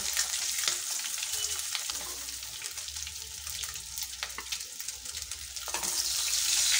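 Boiled eggs frying in oil in a wok, a steady close sizzle with scraping stirs throughout, growing slightly louder toward the end, with no voices.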